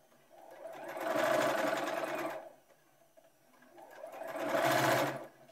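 Two bursts of a sewing machine stitching at a steady, fast hum, each lasting over a second with a quiet pause between, close and fairly loud with no talk.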